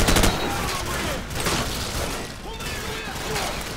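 Chaotic battlefield gunfire in Call of Duty Modern Warfare around a disabled M1A2 Abrams tank in a bog, a sharp burst at the start, then a dense wash of scattered shots and distant impacts.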